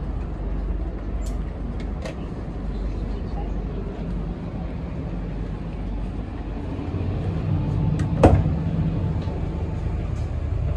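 Steady low rumble of the Banyubiru passenger train idling at Telawa station platform in Indonesia, with a sharp clank near the end and faint scattered noises in the background.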